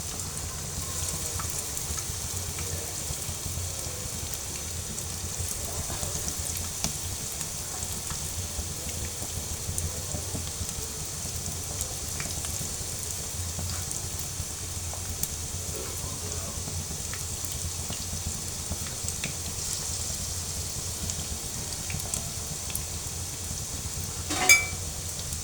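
Semolina and sour yogurt pakoras fry over medium heat in a large frying pan, giving off a soft, continuous sizzle with crackles, steady throughout, and a short louder clatter near the end.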